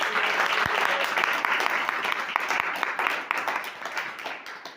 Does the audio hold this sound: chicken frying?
no